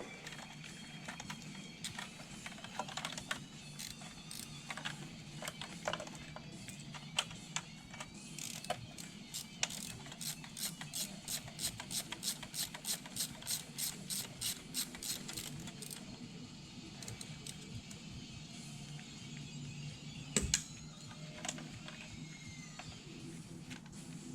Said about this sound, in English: get those 4 bolts pulled out